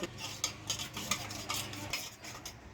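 A spice masala with mustard oil stirred in a pan, with quick rhythmic scraping and clinking of a utensil against metal over a faint sizzle, close up and without speech.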